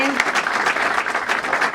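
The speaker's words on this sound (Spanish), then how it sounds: "Un fuerte aplauso para el compañero José Boitenco" A brief burst of audience applause at a Buenos Aires province labour congress on rural work, honouring a union secretary general; dense, continuous clapping from a crowd, close and fairly loud, with no speech over it.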